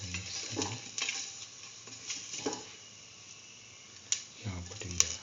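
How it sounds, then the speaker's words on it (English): Cardamom pods and salt being stirred into chicken rice, soft scraping and patting strokes of a spoon in a pot with faint sizzling, in a few short bursts and a couple of sharp clinks. "Put in the cardamom pieces, cardamom pods, salt and mix thoroughly."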